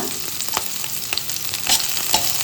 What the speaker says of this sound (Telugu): కొంచెం అల్లం, ఒక 2-3 వెల్లుల్లి రెబ్బలు, ఒక 2 పచ్చిమిర్చి అది కొంచెం ఫ్రై అయిన తర్వాత